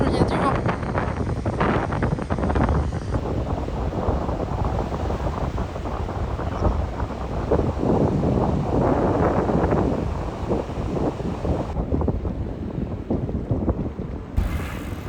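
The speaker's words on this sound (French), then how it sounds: "On est arrivé à la plage, mais il y a du vent." Strong wind buffets the microphone at a beach in Kamakura, Japan, a loud continuous roar and rumble with gusty surges, easing only briefly near the end.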